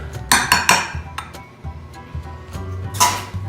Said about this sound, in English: we're gonna scoop half of the cottage cheese mixture